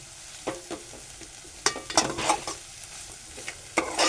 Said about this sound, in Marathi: तरी पण आपण थोडीशी परतू तिला